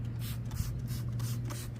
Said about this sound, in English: what I'm doing is just spraying it down. I'll just get all the grease, dirt